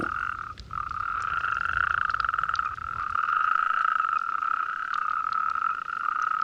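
A chorus of male Spanish toads calls from a pool, a steady, continuous high trilling drone that barely pauses, loud and close, with no voices over it.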